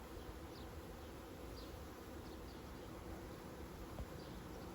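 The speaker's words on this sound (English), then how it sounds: "There's bees flying all over the place here." Honeybees fly all around an open hive as a new backyard package is installed, making a continuous, close, steady buzzing hum with a few louder passes and no talking.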